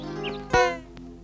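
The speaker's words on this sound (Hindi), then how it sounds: "कहाँ है वो बिल्ली?" A cat meows twice in quick succession, close and fairly loud, during a scene from a Hindi romantic drama film, over a steady sustained musical tone.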